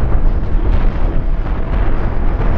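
Missile explosion in the spaceship combat game Cosmoteer, heard as a loud, dense, continuous rumbling roar that holds steady for a couple of seconds without any talking.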